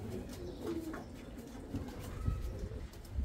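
Healthy pigeons kept in a coop in Samsun, Turkey, give soft, low cooing calls in a few quiet, close phrases over faint background noise.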